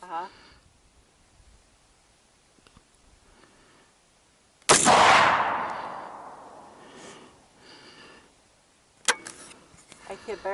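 An AR-15 rifle fired outdoors while sighting in, a single sharp loud shot with a long decaying echo, followed later by another brief crack, with people talking around it.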